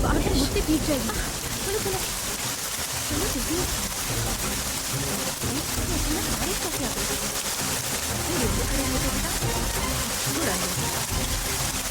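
Rain falling outdoors in a steady dense hiss of drops, continuous and fairly loud, with voices and dramatic TV-serial sound mixed underneath.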